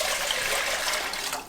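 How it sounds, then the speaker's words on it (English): Six cups of water poured into a cooking pot for mac and cheese, a steady close-up splashing trickle that runs throughout without pause. "we're going to pour it into the pot"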